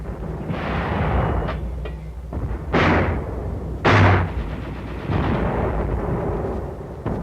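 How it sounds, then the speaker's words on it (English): Mortar and artillery fire during a WWII battle on Saipan, supporting an infantry and tank advance toward an airfield: a steady din of battle punctuated by several loud, booming blasts, with rumbling continuing between them. "Our infantry tank teams, sweeping toward the airfield, were supported by mortar and artillery fire."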